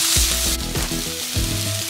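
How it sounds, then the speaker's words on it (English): Egg fried rice with green chilies stir-fries over a high flame, loud close sizzling broken by several sharp metallic clanks and scrapes of a spatula against the pan, with no voices. "Mix them well and cook in high flame for 6 minutes"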